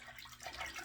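Water splashes faintly during a wet shave with a Rockwell 6S safety razor, a brief soft splash lasting under a second.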